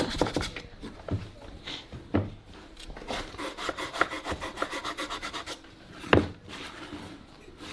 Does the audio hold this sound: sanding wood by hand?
yes